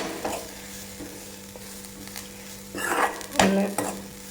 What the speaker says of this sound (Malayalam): അമ്പത് ശതമാനം ഒന്ന് വറുത്തെടുക്കാം കേട്ടോ